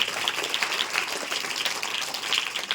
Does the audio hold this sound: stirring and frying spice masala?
no